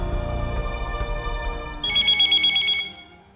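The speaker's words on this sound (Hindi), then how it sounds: "रोहिल का फोन है।" A telephone rings, first muffled under a low rumbling backdrop, then a bright electronic trill comes through clearly before fading out.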